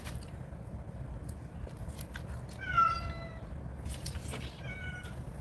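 A cat meows indoors, a short mid-pitched cry standing out against steady low background noise, with faint clicks and rustles around it and a second softer meow shortly after.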